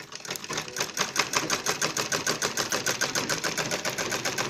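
A sewing machine stitches a zip pocket on a designer bag at home, its needle chattering in a fast, even, continuous rhythm, close and loud, with no voices.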